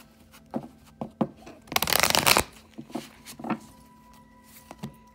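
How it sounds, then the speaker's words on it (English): A deck of tarot cards is shuffled close up, with soft riffles and taps through the clip and one louder, longer burst of rapid card flutter in the middle. "I'll shuffle a little bit here on camera for you"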